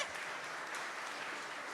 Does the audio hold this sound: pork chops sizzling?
no